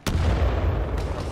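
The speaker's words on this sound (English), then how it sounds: "Here, eat my grenades." Grenade explosions in the video game Titanfall 2: a sharp, loud boom at the start followed by a second blast about a second later, each trailing into a rumbling decay.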